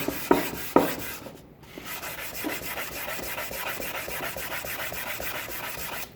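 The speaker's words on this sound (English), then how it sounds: "you can actually hear the difference between the two grits as I'm sanding" A wooden footstool is hand sanded with 150 grit sandpaper, giving close, steady rasping strokes in a continuous rhythm after a couple of sharper scrapes at the start, with no talking.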